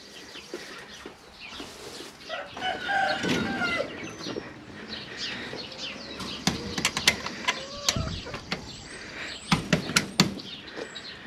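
Chickens cluck and a rooster calls in a coop amid chirping birds, with scattered sharp clicks and rustling nearby, building busier toward the end.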